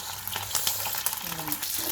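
Sausage sizzles and crackles in a hot pan, with steady frying hiss and occasional spattering pops close by.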